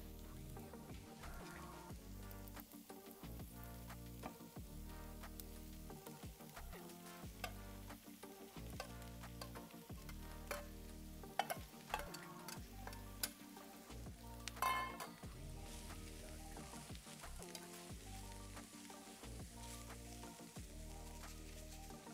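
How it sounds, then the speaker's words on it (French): Ground beef browns in a pan, a soft sizzle with scraping stirs and clinks of a utensil at an irregular pace, fairly quiet, with a musical background underneath and no talking. "Et puis tu rajoutes ton bœuf haché"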